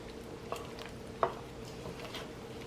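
Yeast dough for potato rolls is mixed by hand in a bowl, giving faint soft scraping and sticky squelching with a couple of small clinks, quiet and close.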